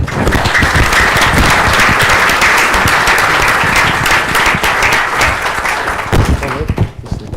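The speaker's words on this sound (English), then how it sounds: "please maybe we'd give her a round of applause and thank her very much" A full room of people at the launch of the 2018 State of Ireland Report applauds steadily and loudly for several seconds, the clapping thinning out toward the end.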